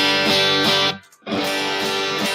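Muddy distorted electric guitar from a Telecaster through a RAT distortion pedal with the filter turned all the way up into a Vox amp, two loud strummed bursts split by a short silent gap.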